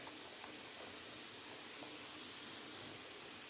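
Diced onions and ginger hit a hot pan already frying sausages for a stir fry of potatoes and vegetables, a steady soft sizzling hiss that stays even throughout, fairly faint and with no talking.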